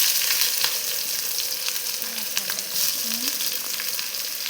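Onion sizzles in hot cooking oil in a small pan, a steady, fairly soft hiss and crackle that runs the whole time without speech.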